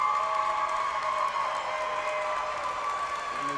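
The home crowd at a Jenkins high school basketball game claps and murmurs in a steady, dense wash of applause that fills the gym evenly from start to finish.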